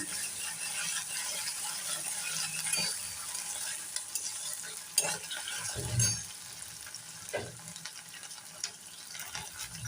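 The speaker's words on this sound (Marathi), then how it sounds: "तर ही देखील चांगली परतून घेऊया" Garlic and ginger paste is stirred in a hot pan, giving a soft, steady sizzle with light scraping and occasional clinks of a spoon against the pan.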